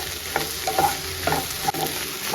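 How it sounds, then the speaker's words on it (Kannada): Okra and onions frying in a pan, loud close sizzle broken by several scraping stirs of a spatula. "ಇವಾಗ ಚೆನ್ನಾಗಿ ಬೆಂಡೆಕಾಯಿ ಫ್ರೈ ಆಗಲಿ."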